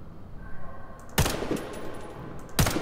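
Gunfire in the Warface shooter game on PC: two sharp bursts of shots about a second and a half apart, loud against a quiet background, with no talking.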